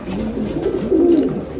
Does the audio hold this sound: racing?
yes